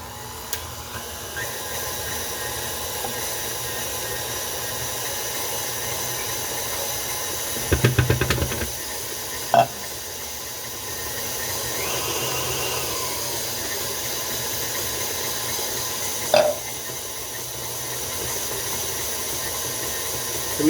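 A kitchen mixer churns a hot water mixture in a steady, continuous whir with a hissing, steamy wash, broken by a few brief knocks and clunks; no voices.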